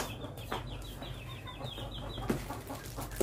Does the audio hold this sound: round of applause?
no